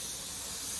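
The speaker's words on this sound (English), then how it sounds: "that's why you need to use a low pressure when you're shooting your metallic on your last coat" A paint spray gun shoots metallic paint at low pressure for a final coat, giving a steady, bright, continuous hiss held close up without any voices.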